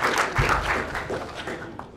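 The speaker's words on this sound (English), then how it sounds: "Let's give Sarah a nice round of applause." An audience claps for a volunteer named Sarah at a live magic show, a short burst of applause in a room that tapers off quickly.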